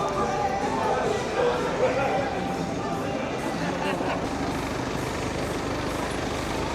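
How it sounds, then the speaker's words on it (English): Heineken delivery trucks rumble past on a busy Benidorm street: a steady, continuous roar of engines and traffic throughout, with no single pass standing out. "Heineken trucks. You know what these are delivering in Benidorm?"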